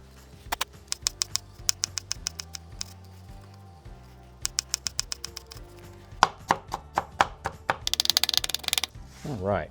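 A knife taps and clicks sharply on a cutting board while seeds and membrane are scraped out of hot peppers, an irregular run of close, crisp strokes that thickens into rapid clatter near the end, with brief scraping.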